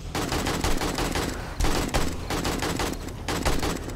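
Rapid bursts of 7.62 rifle fire in the zombie survival game 7 Days to Die, loud and close, in repeated volleys with brief gaps between them.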